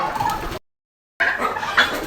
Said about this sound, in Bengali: আগে এখানে মারামারি শুরু হয়ে গেছে তার্কিগুলা এই কেসটার মধ্যে চলে আসছে